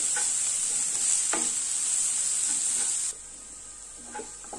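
Onions and green chillies sauté in a pan for channa chilli, with a steady bright sizzle and hiss broken by a few scraping stirs. The hiss drops noticeably partway through.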